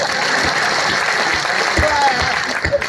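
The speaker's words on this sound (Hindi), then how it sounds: "अब आप चाहते हो अपने लक का प्रभाव यहां नहीं दिखाऊं तो दोनों हाथ ऊपर उठाकर तालियां बजाओ।" An audience at a Hindi comedy poetry show claps in a steady, moderately loud spatter of applause with low thumps mixed in, fairly close.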